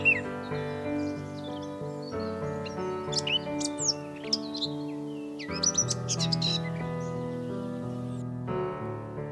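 Great spotted woodpecker and blackcap at a water feeder: chirps and warbling phrases come in short bursts over a sustained musical drone, fairly faint and somewhat distant, with no voices.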